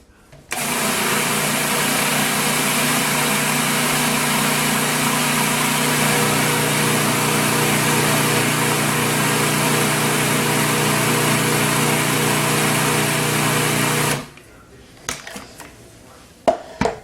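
A kitchen machine whirs loudly and steadily for about fourteen seconds while it mixes ground almonds into pink marzipan dough, then cuts off abruptly, leaving a few faint clatters.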